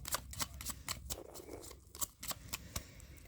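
Tarot cards being shuffled by hand, a run of sharp, crisp riffling snaps at an irregular quick rhythm, close and fairly quiet.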